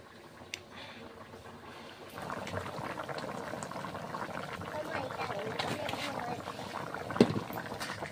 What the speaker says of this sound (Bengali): তরকারিটা আমার ফুটছে